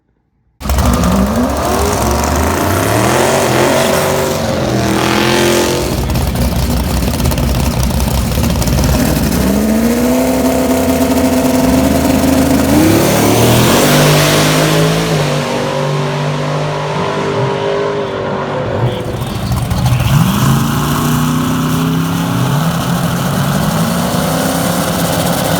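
A drag racing car at Galot Motorsports Park, a car that runs 160 miles per hour, drones loud and close with a continuous engine note that climbs in pitch over and over as it revs.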